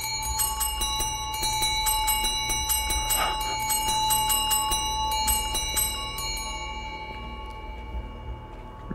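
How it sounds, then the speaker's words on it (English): A bell rings repeatedly in the game Phasmophobia: rapid, bright metallic strikes form a fast, continuous jangle over a low background hum, loud and close for several seconds before thinning out. "Ding the bell."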